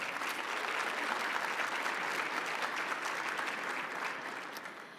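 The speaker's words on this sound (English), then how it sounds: "Please give her a round of applause." Sustained audience applause for former Congresswoman Grace Napolitano at the 2025 State of the Port of Los Angeles event, a dense, steady wash of many hands clapping that holds for several seconds before tapering slightly at the end.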